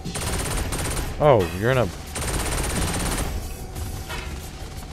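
Rapid gunfire from alien-shooting combat in the game Saints Row 4, dense repeated shots running under steady game noise while a voice speaks briefly partway through.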